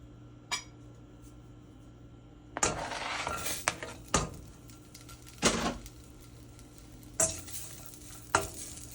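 Onions fry in oil in a pot, giving a steady soft sizzle broken by repeated sharp scrapes and clinks of a utensil stirring against the metal, close up and with no talk.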